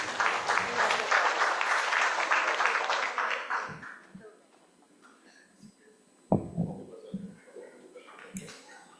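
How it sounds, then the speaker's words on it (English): Conference audience applauding the speakers, a dense burst of clapping that fades out after about four seconds, followed by quieter room noise with a few knocks and handling sounds. "Let's give them a round of applause,"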